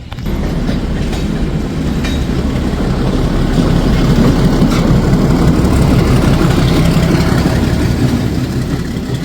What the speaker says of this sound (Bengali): হাওড়া শিউড়ি হুল এক্সপ্রেস শান্টিং হচ্ছে।